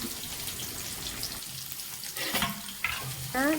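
Chopped onions tipped into hot oil with cinnamon and bay leaf for a Kannada chicken fry, giving a steady sizzle with stirring scrapes and a few clinks, growing louder toward the end.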